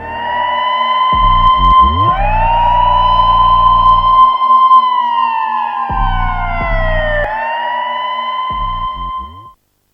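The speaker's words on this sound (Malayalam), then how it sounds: "ദേ ആംബുലൻസ് വന്നു" An ambulance siren wails loudly and close, sweeping up and down in pitch as it arrives during a staged hospital emergency skit, with deep low rumbles pulsing beneath and no talking over it.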